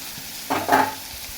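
Chopped onion hits a pan of frying hilsa fish with roe for an eggplant curry, giving a short sizzling, stirring burst midway through an otherwise quiet stretch.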